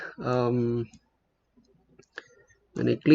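A mouse click on a button in a JavaScript pop-up form web page, heard as a short, sharp click between stretches of voice.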